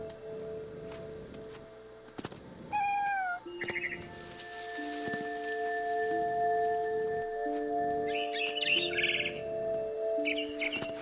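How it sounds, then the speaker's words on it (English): A bird in the video game What Remains of Edith Finch gives a few short, rising and falling chirps over a quiet, humming in-game ambience, with a later flurry of brighter twitters. "There's a bird."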